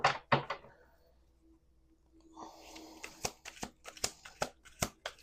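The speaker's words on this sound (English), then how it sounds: "We're going to do one more shuffle." A deck of cards is shuffled: a brief riffle, a pause, then a longer riffle ending in a run of sharp, evenly spaced taps as the cards are squared. The sound is close and quiet, with no talking.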